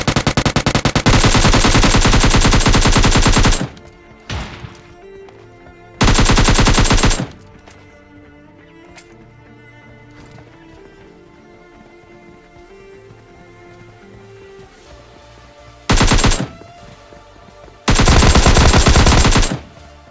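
Automatic gunfire from PUBG Mobile Lite on an island map, heard as loud, sustained rapid-fire bursts with quieter gaps and scattered single shots between them.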